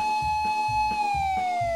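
Toy fire engine siren sounding in a quick repeating pulsed wail, loud and close, each cycle sliding slightly downward in pitch, with no talking.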